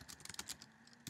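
A search is typed into Google on a computer keyboard: a quick, close flurry of keystrokes in a brief burst, then one last tap, with no talking.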